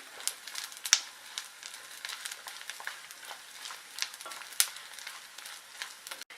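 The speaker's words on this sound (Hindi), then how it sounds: "गोंद को हम धीमे आंच पे तलेंगे ताकि ये अच्छे से खिल जाए" Edible gum (gond) fries in ghee over a low flame, giving a soft, continuous sizzle dotted with frequent small crackles and occasional sharper pops, close up and with no speech.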